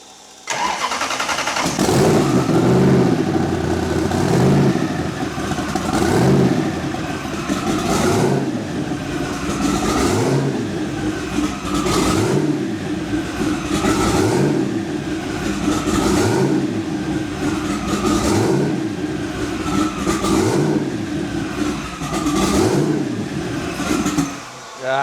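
A freshly built Chevy 372 V8 runs after its first start, loud and close, with a rough idle broken by rhythmic revs that rise and fall roughly every two seconds. Voices talk faintly underneath.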